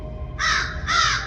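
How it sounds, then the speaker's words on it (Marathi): Two harsh caws from a crow, one right after the other, fairly clear against a quiet background. "दूरवर कावळे ओरडत होते"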